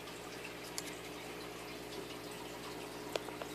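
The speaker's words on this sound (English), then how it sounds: "Shoveling the water up to his face." Faint, soft trickling and light splashing of water as a hermit crab shovels water to its face while drinking, with a few small drips and splashes over a steady quiet background hum.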